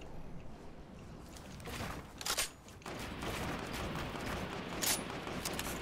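Rapid bursts of gunfire from a new weapon in Fortnite rattle on and off, with two sharper, louder volleys standing out over a busy game-combat background and no speech.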